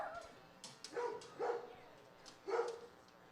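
A dog barks several times, faint and distant, in irregular bursts across a quiet baseball park at night.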